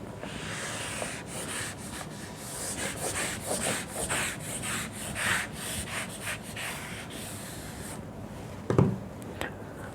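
Chalkboard or whiteboard being wiped clean during a mechanics lecture on central orbits, a steady scrubbing swish of repeated rubbing strokes, close and continuous, with a brief knock near the end.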